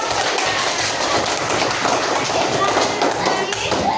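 Classroom applause from a group of pupils after another group finishes presenting, a dense, steady patter of many hands clapping at once throughout, fairly loud and close, with voices mixed in underneath.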